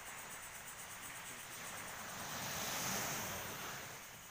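Sea waves wash ashore at night on a beach, a steady broadband surf hiss that swells louder near the middle, with wind buffeting and faint insects chirping underneath.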